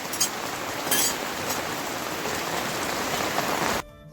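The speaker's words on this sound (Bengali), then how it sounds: "আবার প্রচন্ড জোরে বৃষ্টি আসছে" Heavy rain pours onto a tin roof in a dense, steady drumming roar that stays loud throughout, then cuts off abruptly just before the end.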